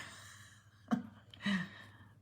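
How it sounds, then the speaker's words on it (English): A dog gives two soft snorting snores, one short and one a little longer, rising briefly out of a quiet room. "I hear Marley snoring down on the floor"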